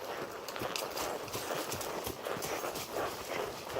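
Horse hooves clip-clop at a slow, steady walk during a small cattle drive lesson outdoors, a continuous soft pattern of footfalls close by with no talking.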